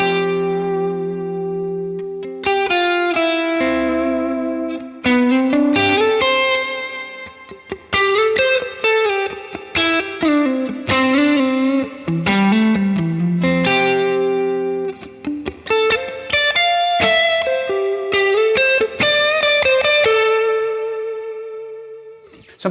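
Clean electric guitar runs through a Fractal FM3 set to a huge reverb, sparse melodic lines and chords ringing out loudly with long, washy tails that blur each note into the next, played alone.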